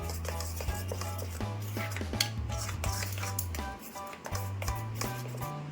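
Spoons and a pan clink as ground spices, coriander powder, Kashmiri red chili and turmeric among them, get mixed together, a run of quick scraping taps and knocks with brief pauses, close and fairly clear.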